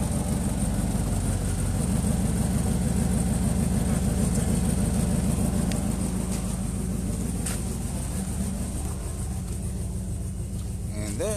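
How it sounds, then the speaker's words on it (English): Noisy vehicle engine in the Triangle Wars video game, a steady, continuous rumbling drone with a low, throbbing idle quality, held at even loudness throughout. "he gotta come up with this noisy ass vehicle"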